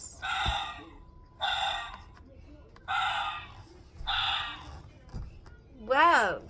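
A voice imitates a fox with four harsh, raspy barking yelps spaced about a second apart, ending in a higher wavering squeal, fairly close in a quiet room.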